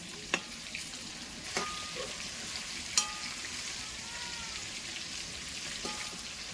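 Chicken pieces deep frying in a pan of oil for a chicken curry, a steady soft sizzle broken by a few sharp clinks and scrapes as the pieces are turned.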